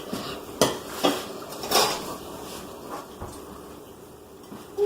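Cookie dough with walnuts and chocolate is stirred in a bowl, with utensil scrapes and sharp clanks against the bowl every second or so, close and without talk.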